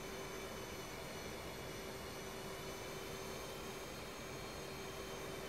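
F/A-18C Hornet jet engine in a flight-simulation game, a steady, even roar with a faint constant tone, continuous and unchanging throughout, with no voices.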